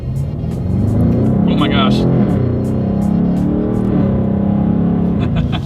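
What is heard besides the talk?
2020 BMW M850i Gran Coupe accelerating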